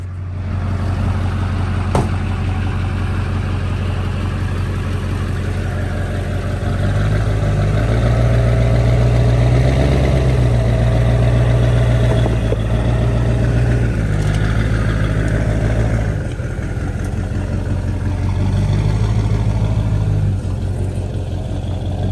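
A truck engine runs steadily while towing a stuck car out of a parking lot, a loud close low drone that rises to a higher rev in the middle and then drops back to idle.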